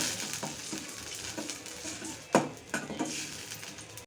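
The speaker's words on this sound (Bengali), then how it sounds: "এখন একটু ভাজা ভাজা করে নেব" Onion, tomato and dried chili paste fry in oil in a pan, a soft continuous sizzle with several scraping stirs and light clinks of a utensil against the pan.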